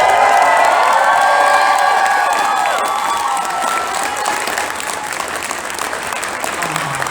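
A convention crowd at an anime event claps loudly and cheers, with whoops and shouts rising over dense, continuous applause that gradually settles but stays full throughout.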